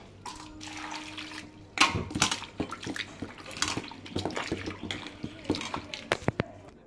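Tap water runs and splashes in a sink as brass puja utensils are washed at home, with clinks and clatters of metal vessels scattered over the flow, close by and moderately loud.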